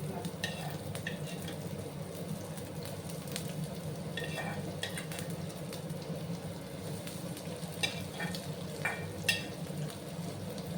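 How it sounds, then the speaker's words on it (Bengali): Chopped medium onions fry in hot mustard oil in a pan, giving a steady soft sizzle with occasional stirring scrapes, close and alone with no talk. "এবার আমি দুটো মিডিয়াম সাইজের পেঁয়াজ কুচি দিয়ে দিলাম।"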